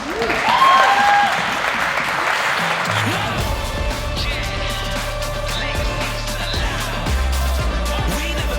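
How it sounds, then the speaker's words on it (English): Applause from an audience in a building, a thick burst of clapping that dies down after a few seconds, giving way to low rumbling music with a steady beat. "Give you guys a round of applause"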